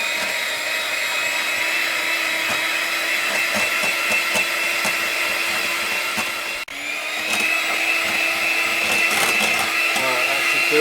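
An electric mixer whirs steadily as it beats keto blueberry cheesecake batter in a bowl, a continuous close motor drone with a brief dip partway through.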